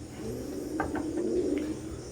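Soft, low cooing of Teddy pigeons, a few murmuring calls over a steady background hum, close by.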